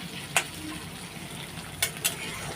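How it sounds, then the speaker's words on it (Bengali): Green chillies and chopped onion fry in a pan with a steady, soft sizzle, broken by a few sharp clicks of a utensil against the pan; no one talks. "কাঁচা লঙ্কা আর পেঁয়াজটা আমি একটু ভেজে নেব"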